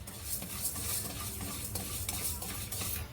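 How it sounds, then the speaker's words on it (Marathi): Urad dal dry roasting in a kadhai without oil, with a continuous close rattle and scrape as the lentils are stirred and tossed against the pan. "आता हिला पण आपण ना तेल न घालता अशी छान खरपूस भाजून घ्यायची आहे"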